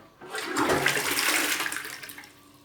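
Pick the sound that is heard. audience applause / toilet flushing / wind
toilet flushing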